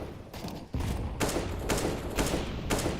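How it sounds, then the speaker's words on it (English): Gunfire during a professional Counter-Strike match, several sharp bursts of shots in quick succession over about three seconds, loud and close against background game noise. "And a missed shot from Art."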